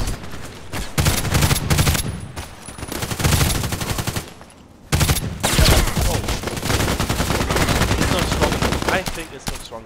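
Rapid automatic fire from an HK G36C rifle in the online shooter Contract Wars, loud sustained bursts with a short pause near the middle, dense and continuous.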